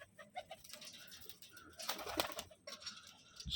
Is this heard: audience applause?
no